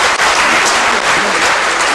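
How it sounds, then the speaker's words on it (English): Loud, close applause from the audience at a regional CMA convention in Bengaluru, a thick continuous roar of many hands clapping without pause. "applause."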